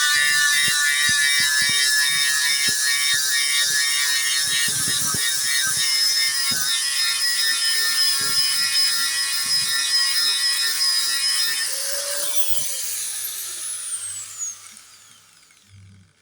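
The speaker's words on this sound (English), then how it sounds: "I've got my angle grinder with the sanding disc" An angle grinder fitted with a worn sanding disc whines steadily and loudly while stripping the top layer of paint from a boat hull, with scraping contact bursts, then spins down and fades at the end.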